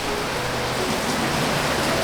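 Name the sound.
heavy rain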